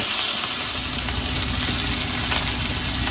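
Chicken pieces fry in a hot pan, giving off a steady, close sizzle that holds evenly throughout with no voices over it.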